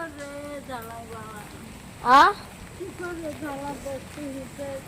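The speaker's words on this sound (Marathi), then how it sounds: "पाऊस पण यायला लागला मित्रांनो" Steady rain patters on the surface outdoors near a buffalo shed, a continuous hiss under a voice and one short loud burst midway.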